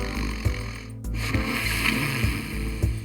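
A man snores loudly with a harsh, rattling rasp, heavy enough to compare to a train's roar; several rhythmic snore bursts repeat steadily and close up over a constant low drone, with no talking.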